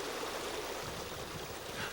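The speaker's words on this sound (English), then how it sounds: "meandering streams" A meandering stream in Connemara, Ireland runs in a steady, continuous wash of flowing water, fairly close, with no voices.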